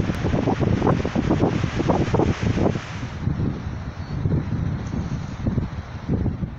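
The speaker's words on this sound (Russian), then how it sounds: "Ветер такими нахлыстами, порывами идет." Strong gusty wind blowing through a mountain gorge by the Bala river, a loud, continuous roar buffeting the microphone that surges and eases in waves.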